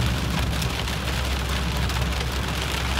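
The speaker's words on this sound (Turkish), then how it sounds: "Birdenbire yağmur bastırdı." Sudden rain drums on the closed roof of a convertible car in Germany, a dense, even patter that fills the cabin without a break and with no talk.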